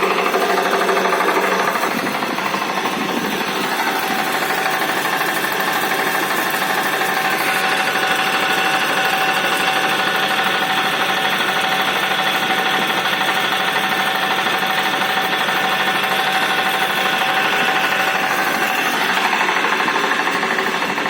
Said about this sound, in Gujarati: આપણે કમ્પ્રેસરની રીંગુ નાખતા હોય ને સાંજે એની અત્યારે જો ચાલુ થઈ ગયું છે